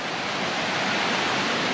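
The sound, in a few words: waterfalls by a camping area on a hiking trail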